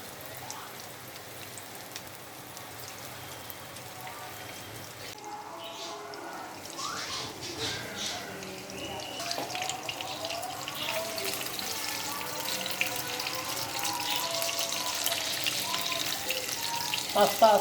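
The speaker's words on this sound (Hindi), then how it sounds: "अब हम इनको एक एक करके डालेंगे। इस तरह हमने इनको फ्राई कर लेना है।" Gola kababs dropped one by one into hot oil in a pan, frying with a continuous crackling sizzle that grows busier and louder over time, with scattered pops and clinks of handling throughout.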